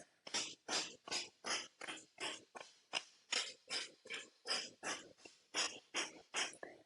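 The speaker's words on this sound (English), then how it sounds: "you're going to keep doing that, panting like a dog, and then close your mouth. And do it through your nose" Rapid rhythmic dog-like panting through the nose, a human breathing exercise: about sixteen sharp, evenly spaced breaths in under seven seconds, close and clear with no talking.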